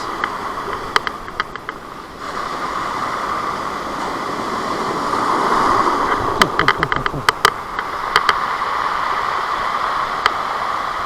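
Constant rushing surf with scattered sharp clicks and rattles of stones tumbling in the water, close by and fairly loud.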